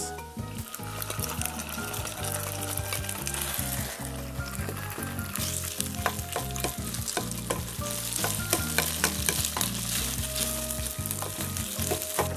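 Rice tossed in scallion-scented oil for Korean canned tuna fried rice sizzles and crackles steadily, with frequent clattering spatula scrapes and knocks against the pan close by.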